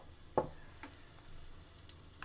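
Gram and legume pieces fry in a pan at low volume, with a soft steady sizzle and a few brief clinks or stirring scrapes.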